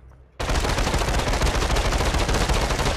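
Uzi fire in the VR shooter Population One bursts in abruptly and continues as a loud, dense, rapid stream of shots for nearly three seconds without pause.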